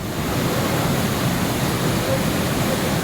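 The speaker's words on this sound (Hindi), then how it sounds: "केदारेश्वर महादेव मंदिर का झरना भी रौद्र रूप में दिखाई दिया।" Monsoon-flooded waterfall at Kedareshwar Mahadev temple, a dense, steady roar of rushing water with no break and no talk.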